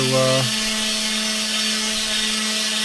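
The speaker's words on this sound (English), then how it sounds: "Into the orbital sander now" An orbital sander smoothing a wooden box, its steady motorized whir rising from a brief clatter at the start and then running continuously and loudly for the rest of the moment.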